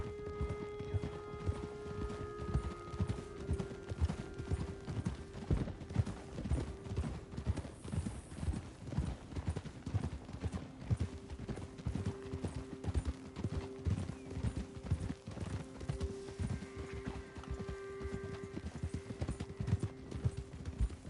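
Steady clip-clop of horse hooves in Red Dead Redemption 2 trots along at a regular rhythm for a long stretch, fairly soft and close, with a brief whinny partway through.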